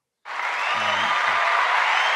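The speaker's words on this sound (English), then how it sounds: "You clap it up" Applause starts suddenly after a brief silence and holds steady and loud to the end, a dense wash of clapping without breaks.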